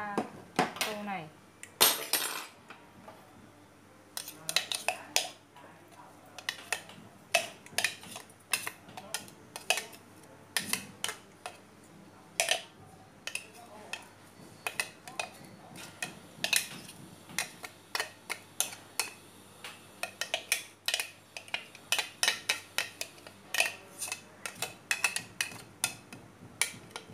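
Ground garlic and chili scraped out of a grinder and put into a bowl: a long, busy stretch of close clicks, taps and knocks of utensil on bowl at uneven intervals, with some talk beneath.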